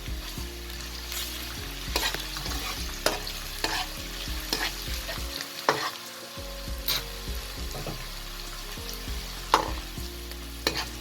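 Steady sizzling of garlic frying in a pan with softened onions, with repeated scraping and clinking as it is stirred, close by and moderately loud.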